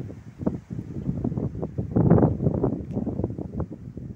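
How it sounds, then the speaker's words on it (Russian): Wind buffets the microphone outdoors in a large village, low gusty rumbling that swells and fades over a few seconds, close and fairly loud with no other sounds. "Ветер."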